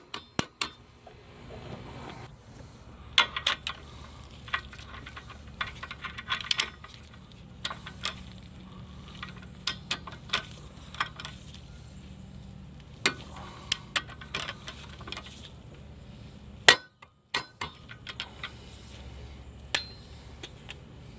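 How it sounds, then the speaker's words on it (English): Torque wrench tightening brake caliper bolts to 65 foot-pounds on a 2015 Kia Soul front brake job, sharp metallic clicks and ticks scattered irregularly throughout, faint and close, over a quiet background. "we're going to go ahead and torque this to 65 foot-pounds, top and bottom"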